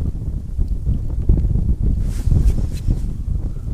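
Strong wind buffets the microphone on a riverbank during a pike and zander jig-fishing trip, a loud, gusty low rumble that churns continuously with no talk.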